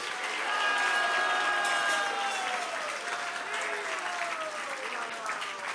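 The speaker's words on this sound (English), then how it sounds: "Give them a big round of applause." Large audience at a Krishna Katha gathering gives a big round of applause, dense sustained clapping with faint cheering, steady and then gradually easing.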